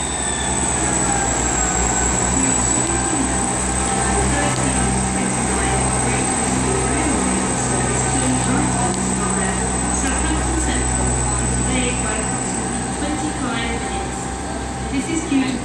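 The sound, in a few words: Waterloo train departing station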